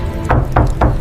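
Three evenly spaced, sharp knocks on a door, close and fairly loud over a low background rumble, in a dramatized retelling of a Bible parable about a bridegroom.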